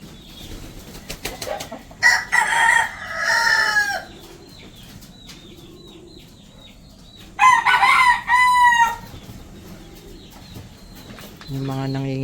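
Chickens in a backyard coop where hens lay eggs: repeated close clucking and squawking in two loud bursts, a rooster's crow among them, over a low background hum.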